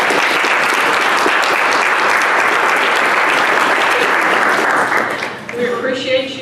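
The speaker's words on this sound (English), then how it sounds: "why don't you give your families a round of applause for that?" A graduation ceremony audience applauds loudly, a dense sustained wash of clapping from a large crowd that fades toward the end as a voice begins to speak.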